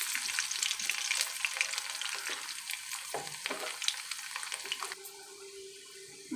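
Five large garlic cloves frying with urad dal and curry leaves over low heat, a steady close sizzle with light crackle that softens slightly near the end.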